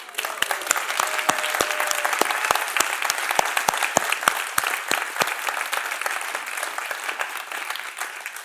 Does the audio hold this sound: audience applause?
yes